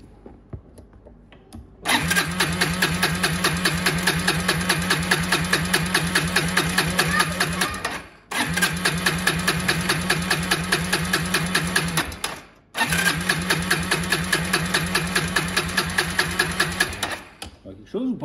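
A Yamaha Breeze 125 quad's engine cranks, catches and runs in three long stretches of rapid mechanical chatter, cutting out briefly between them, loud and close, with people talking in the background.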